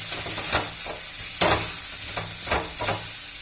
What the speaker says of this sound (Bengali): তাই জন্য বাদাম টাদাম ভেজেই করছি